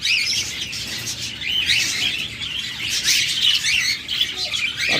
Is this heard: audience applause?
no